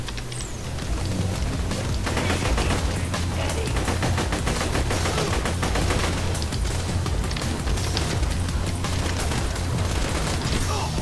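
Dense, continuous gunfire from the video game Borderlands 2, with rapid shots and bursts running steadily for the whole stretch over a busy, loud game mix.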